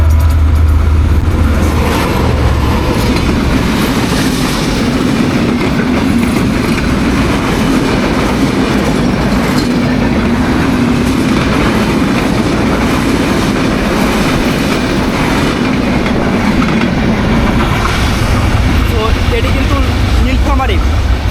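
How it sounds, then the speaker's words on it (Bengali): The Nilsagar Express roars past Gazipur Hi-Tech City railway station in Bangladesh at close range, a loud continuous rumble with clattering wheels and a faint squeal, sustained for the whole stretch. "এটি কিন্তু নীলফামারি থেকে ছেড়ে আসা নীলসাগর এক্সপ্রেস ট্রেনটি"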